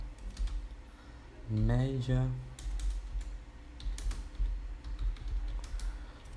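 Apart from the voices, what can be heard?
typing on a computer keyboard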